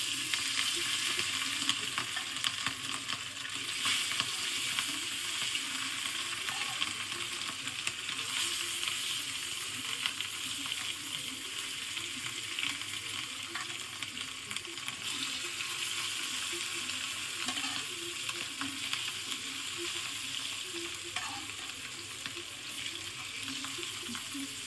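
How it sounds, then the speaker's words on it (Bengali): Fish fries in a pan with an even, hissing sizzle that holds steady at moderate loudness for the whole stretch, with only small shifts and no talking. "এখন আমি মাছ ভেজে নেব।"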